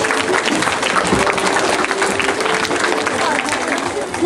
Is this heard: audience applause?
yes